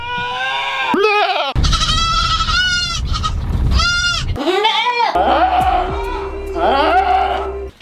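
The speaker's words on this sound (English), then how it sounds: "it was our goats screaming" Farm goats bleating and screaming loudly, several harsh, wavering cries in quick succession from close by, filling the whole stretch with overlapping calls.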